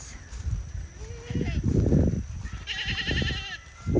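Goats on a Florida farm bleat a few times at close range, with a person talking over the calls.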